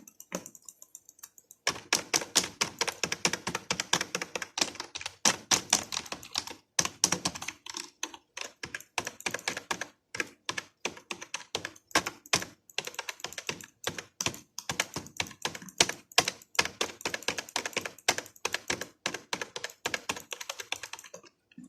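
Broken computer keyboard being typed on, a fast, irregular stream of sharp plastic key clicks and clacks close up, continuing in bursts with brief pauses between.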